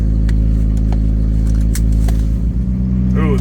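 Engine of a 1986 Toyota Tercel wagon 4wd on its first drive, a loud steady low idle hum heard from inside the car with scattered clicks and crackles, then a brief revving rise at the end.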